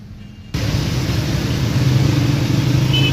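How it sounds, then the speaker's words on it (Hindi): A 2016 Toyota Premio F with a 1500cc inline four-cylinder petrol engine catches and settles into a steady, even idle, the starter turning briefly before the engine runs on alone, close and fairly loud. "सो जी गाड़ी स्टार्ट हो चुकी है, चलिए आपको इसका इंजन भी दिखा देते हैं।"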